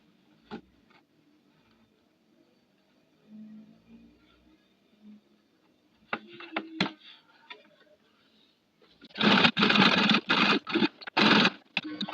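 Electric sewing machine stitching a buttonhole: after some quiet handling noises and light clicks, the motor whirs in short loud buzzing bursts separated by brief pauses, close by.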